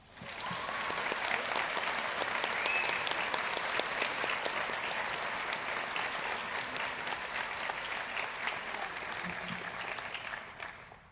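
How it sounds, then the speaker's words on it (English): A sustained round of applause from a sizeable crowd at a medical school white coat ceremony, steady and dense clapping that tapers off slightly near the end. "If we could have a round of applause for everyone joining us today."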